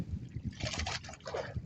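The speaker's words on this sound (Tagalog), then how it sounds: "Pag nagsalubong yun, nagpo-pumpyang yung alon" Sea waves clash where opposing amihan and sabalas winds meet, giving irregular splashing, churning water bursts that are moderately near but faint, with no voices.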